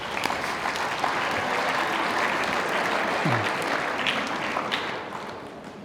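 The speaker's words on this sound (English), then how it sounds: "So give our leading goal kickers a round of applause, please." A hall audience at a football league awards night applauds its leading goal kickers with a steady, dense wash of clapping that holds evenly for several seconds and tails off slightly at the end, with a faint voice briefly underneath.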